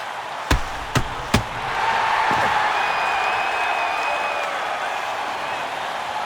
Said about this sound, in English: This crowd is pumped. Listen to the noise.